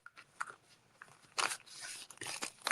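Tarot cards being shuffled by hand, a run of brisk papery riffles and crisp snaps, close and fairly loud, with short bursts separated by brief pauses and no voice over them.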